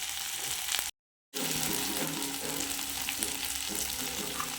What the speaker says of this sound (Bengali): চলো এর মধ্যে এটাকে এবার মশলাগুলো দিয়ে দিই